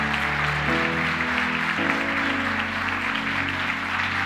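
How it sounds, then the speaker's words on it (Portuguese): Congregation at a church service applauding, a continuous wash of clapping layered over sustained organ or keyboard chords that shift midway, moderately loud and steady throughout. "Quero que você aplaude o Senhor pela vida do apóstolo."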